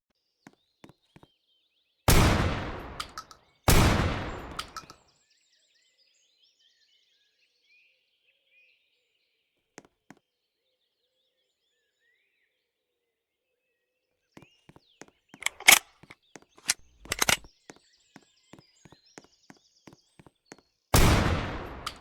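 Gunshots from an MP5 and a Desert Eagle in a Roblox game: two loud, sharp blasts early on, then a quieter scattered stretch of shots and clicks, and one more loud blast at the end.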